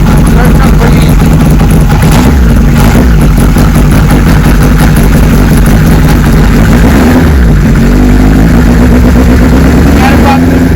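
A 1974 Kawasaki Z1 900 motorcycle engine runs loud and close at a steady idle, with a continuous mechanical rumble and slight dips and swells in pace throughout.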